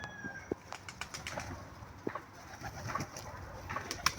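Pigeons flutter and flap their wings in short bursts close by, with soft coos in between and a faint chirp in the background.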